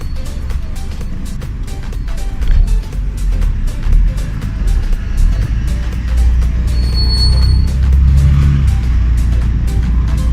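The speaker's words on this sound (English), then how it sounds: "So we are now on the highway and the car is in drive" An automatic car cruises at speed on a highway with a steady engine drone and road rumble, a passing vehicle swelling briefly, heard from inside the cabin.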